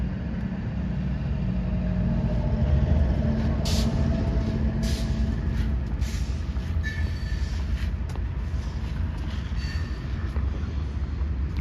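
A train rumbles steadily past nearby on the Chicago lakefront, a low continuous roar with rattling wheels and occasional brief squeals and hisses.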